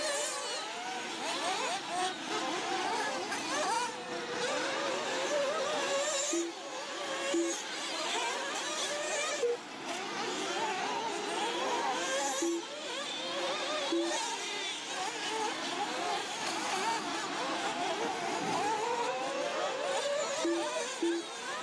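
An offroad racing buggy revs on a dirt track, the engine buzzing and whining through repeated rises and dips of throttle, heard at moderate distance with faint commentary-like voices underneath.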